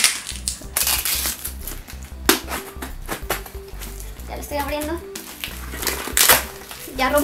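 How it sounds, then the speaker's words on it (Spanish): Cardboard box of books being torn open by hand, a burst of crackling, ripping rustle with paper shuffling, under a child's speech and background music. "Ya rompí la caja."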